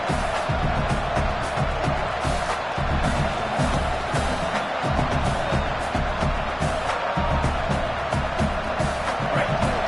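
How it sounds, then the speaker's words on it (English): A large video game stadium crowd roars and cheers continuously, a dense rumbling wall of voices with occasional whoops and claps rising and falling. "Listen to this crowd just shaking the girders of this place, trying to help their defense."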